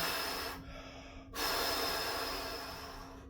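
Heavy deep breathing after a cold plunge, part of a contrast therapy routine with infrared sauna: a long loud exhale, a brief pause, then a strong drawn-in breath, close and alone.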